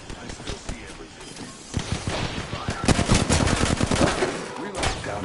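Bursts of rapid gunfire from a PS4 shooter game, loud repeated shots in clusters over a busy battle background, with voice talk mixed in.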